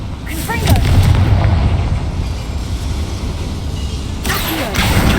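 Confringo blasting spell going off in the Hogwarts Legacy video game: a loud, sustained booming rumble with crackling bursts, swelling again near the end.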